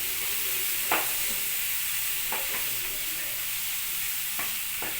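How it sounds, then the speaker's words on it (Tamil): Yellow pumpkin sautéing in ghee for halwa over a low flame: a steady, hissing sizzle throughout, broken by a few soft scrapes of a spoon stirring the pan, with no voices. "சிம்ல வச்சுக்கிட்டே நல்லா வதக்கிறேன்"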